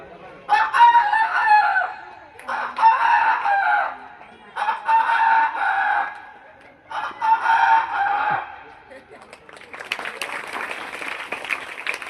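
An Adivasi boy imitates a rooster crowing four times in a row, each long call loud and close, followed by a burst of clapping.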